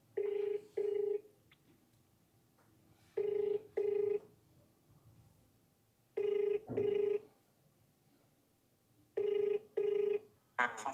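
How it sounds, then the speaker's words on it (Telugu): Telephone ringing without being answered: four evenly spaced double-burst rings, each pair lasting about a second, with quiet gaps of roughly two seconds between them. "మనోడు ఫోన్ ఎత్తట్లే."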